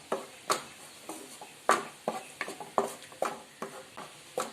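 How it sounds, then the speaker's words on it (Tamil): A utensil stirs sauces (tomato sauce, soy sauce, chili) together in a pan, giving a series of irregular soft scrapes and taps with a faint sizzle underneath, close and fairly quiet. "எல்லாம் ஒன்றா வர மாதிரி நல்லா மிக்ஸ் பண்ணி விடுங்க."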